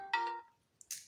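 A telephone ringtone chimes briefly, a short melodic tone followed by a bright electronic burst, close and clear in an otherwise quiet moment just before a call is answered.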